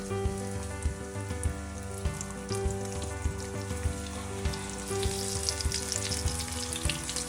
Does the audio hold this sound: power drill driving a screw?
no